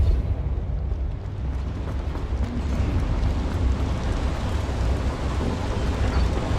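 Depulso spell cast in the Hogwarts Legacy video game, a sustained heavy rumbling roar, broadband and close, rolling on steadily for several seconds like a thunderous blast with no voices.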